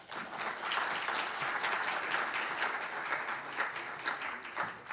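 Audience applause after a lecture by a vice minister at a special session, a dense, sustained round of clapping at even loudness throughout.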